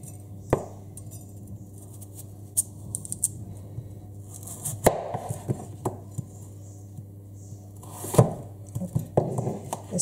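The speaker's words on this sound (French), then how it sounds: "je vais les couper et je les mettrai dans mon plat" Potatoes being cut with a knife, producing sparse, sharp clicks and taps against a board or dish, irregular and fairly close, over a steady low hum with no talking.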